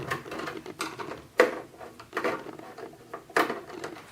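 Screws being unscrewed from the metal chassis holding a circuit board, close scraping and clicking taps of a screwdriver working in a few uneven bursts, fairly quiet.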